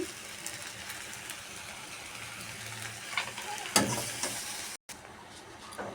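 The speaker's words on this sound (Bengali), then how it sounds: "লবণ হলুদ দিয়ে কিছুক্ষণ নেড়ে ছেড়ে নিলাম" Shrimp frying with banana flower, salt and turmeric in a pan gives a quiet, steady sizzle with light stirring scrapes and a brief louder clatter partway through.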